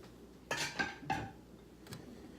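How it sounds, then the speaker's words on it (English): A whisk clinks and scrapes against a bowl as about two cups of mozzarella cheese are mixed into an Alfredo sauce, a few sharp knocks close together, then a single fainter tap. "Just kind of whisk that around."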